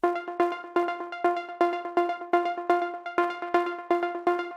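A plucky Serum 2 synthesizer preset for melodic techno and house repeats short rhythmic notes in a steady pulsing pattern, bright and tonal, with no voices.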